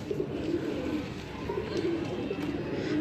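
Pigeons in an open courtyard coo softly and repeatedly in low, rounded phrases, with a steady bed of background noise and no clear voices.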